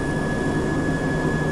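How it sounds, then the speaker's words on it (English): A Cessna Conquest turboprop engine runs during start on the ground, a loud steady turbine roar with a sustained high whine and a deep rumble, close and unbroken. "The engine starts very nicely."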